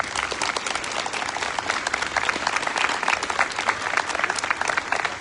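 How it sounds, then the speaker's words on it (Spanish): A church congregation applauds children receiving their first communion, with dense, sustained clapping that fills the space at steady volume throughout. "Les damos un aplauso a estos niños."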